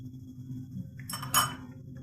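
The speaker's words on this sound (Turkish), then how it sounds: "Çatal yardımıyla ben bunu Böyle alt üst ediyorum." A fork turns frying dough in a pan: a quiet sizzle underneath, then two sharp metallic clinks close together as the utensil strikes the pan.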